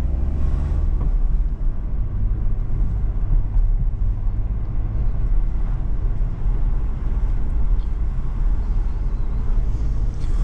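A car pulls out of a 30 km/h zone and picks up speed on an urban road, with a steady low engine rumble and road noise heard from inside the cabin, continuous and fairly loud with no talking.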